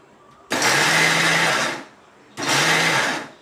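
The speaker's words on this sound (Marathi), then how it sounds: "आपण मिक्सरच्या भांड्यात टाकलेलं आहे. आता आपण हे थोडं जाड प्रमाणात काढून घेऊया" A mixer grinder coarsely grinds corn kernels in two loud whirring bursts, the first lasting over a second, then a short pause before a second, shorter run; close and steady.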